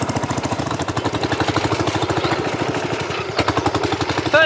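A wartime farm tractor engine chugs steadily while ploughing a field, with a fast, even put-put rhythm that stays close and loud throughout and swells slightly near the end.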